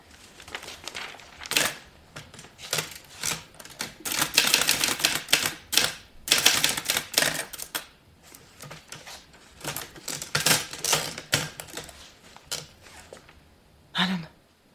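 Portable typewriter typing the opening words of a letter, bursts of sharp rapid key strikes clattering close by, broken by brief pauses and a carriage-return clunk near the end.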